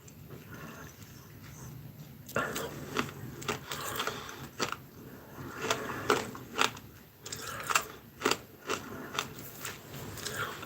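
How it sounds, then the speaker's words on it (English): A cough sweet being chewed close to the mic, with irregular crunchy bites and wet mastication bursts after a quiet start, set against a steady low background hum. "I'm going to chew this cough sweep."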